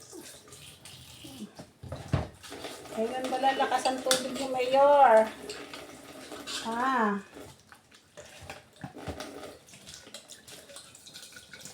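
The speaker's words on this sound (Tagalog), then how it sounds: "Napakahina ng tubig" Weak water trickling from a tap, a low continuous splash under a person talking and making sounds, with some clattering in the background.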